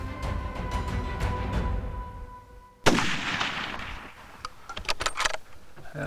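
A single loud rifle shot at a free-range nilgai bull in South Texas cracks out sharply, with a brief echo tail. Quiet outdoor ambience with faint clicks comes before it, and after it some rustling and handling noises.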